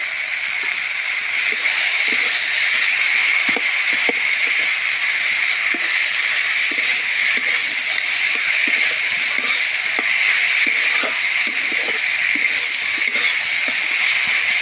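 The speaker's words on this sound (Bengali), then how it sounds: "কষাতে কষাতে আলুটা একটু সিদ্ধ হয়ে গেছে এবার দিয়ে দেবো ভেজে রাখা মাছের মাথা" Sweet potato cooks with previously fried fish heads in a pan, a loud, even sizzling hiss that runs unbroken, with light ticking spatters scattered through it.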